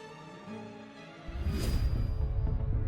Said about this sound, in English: And this is the sound of a solar storm crashing into our atmosphere.